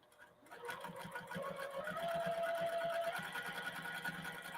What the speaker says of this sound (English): So this is the side I'm stitching closed.